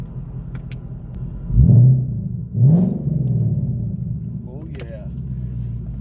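A 2019 Mustang GT PP1 with a cat delete exhaust idling: a deep, steady rumble with two short revs early on, close by, and someone briefly speaks over it.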